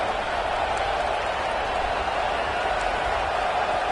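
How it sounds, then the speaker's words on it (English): A stadium crowd at a football game roars steadily in a loud, continuous wash of cheering and noise, far-off and unbroken, with no clear voices on top. "And here comes the noise. This crowd is trying to inspire this defense to make a big red zone stop."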